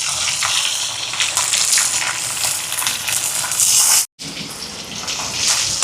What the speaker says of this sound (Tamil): இதெல்லாம் நல்லா வதங்கத்துக்கும் கலந்து விடுவோம்